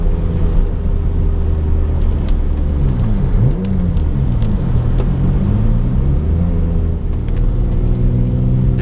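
A turbocharged 7th-generation Honda Accord engine pulls under boost on a wet road, a loud steady drone whose pitch rises and falls as it accelerates, heard from inside the car with constant road noise.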